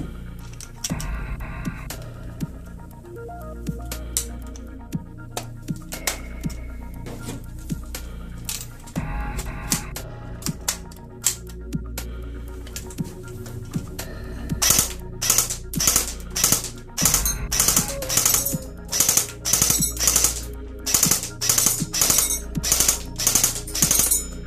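An ASG CZ Scorpion EVO 3 A1 airsoft gun fires full auto in several sharp, rapid mechanical bursts, loud and close, after a quieter stretch of clicking and handling.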